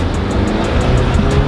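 An Audi A5 in sport mode accelerating hard, its engine a loud, steady roar heard close up with no voices.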